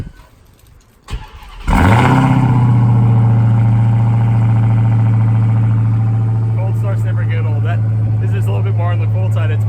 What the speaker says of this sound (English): we're going to do a quick cold start.